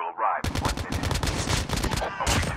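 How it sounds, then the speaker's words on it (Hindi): Rapid bursts of gunfire in Call of Duty crackle in quick succession, loud and close, after a brief voice at the start. "भाई चिराग कहाँ गोली चला रहा है तू?"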